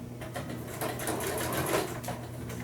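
Sewing machine stitching fabric scraps into a cluster, a fast steady rattle of the needle running continuously at close range, no talk over it.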